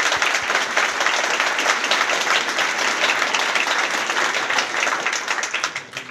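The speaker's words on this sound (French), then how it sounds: "Je vous demande d'applaudir bien fort Benoît." A conference audience applauds loudly and steadily, a dense wash of clapping that holds throughout and tapers slightly at the very end.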